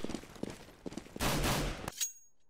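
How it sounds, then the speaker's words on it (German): Gunfire in the video game CS:GO: several short separate shots at first, then a loud dense burst of rapid fire lasting under a second before cutting off, with one last faint report. "Fuck, ich habe ihn voll ins Bein geschossen."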